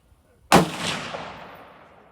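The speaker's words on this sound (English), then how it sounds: "we're gonna shoot now" A single sharp gunshot from a Bergara B14HMR rifle during load testing, loud and close, followed by a long decaying echo tail.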